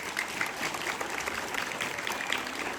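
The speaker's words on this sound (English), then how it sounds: "He needs a bigger applause." A school audience in Kathmandu claps continuously, a dense steady patter of many hands throughout, fairly loud and without pause.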